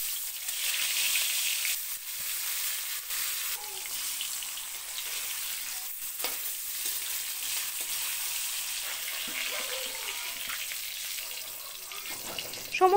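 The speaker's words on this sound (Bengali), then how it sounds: "তো মাছগুলো আমি খুব হালকা করে ভেজে তুলে নিচ্ছি।" Small khoira fish fry lightly in hot oil in a pan, a steady close hiss of sizzling with occasional bubbling pops and faint scraping, no voices.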